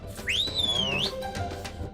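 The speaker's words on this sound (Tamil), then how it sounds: "ஏன் இந்த விசில்லாம் அடிக்கலையோ?" A bus conductor's whistle gives one shrill, rising then sliding tone lasting about a second, heard close and loud over a low background rumble.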